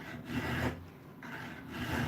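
A rasp files wood in slow, rhythmic back-and-forth strokes, each rough scraping pass close and moderately loud, repeating about three times.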